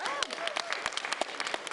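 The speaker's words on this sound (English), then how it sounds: "So we should give you a round of applause." Clapping from a group at a festival stage performance, heard under and around excited talking and cheering voices, with sharp individual claps standing out over a busy, close crowd.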